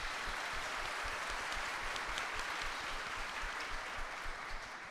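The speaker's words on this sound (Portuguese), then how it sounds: "palmas para a Val" Studio audience applause on a talk show about Black culture, a dense, steady wash of many hands clapping at an even level throughout, without voices over it.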